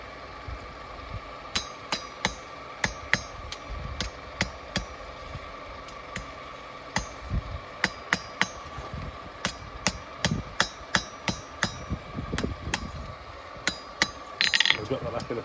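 Hammer blows ring out on hot spring steel as a bushcraft knife blade is forged and straightened on an anvil, sharp metallic strikes in a steady irregular rhythm over a low background hum.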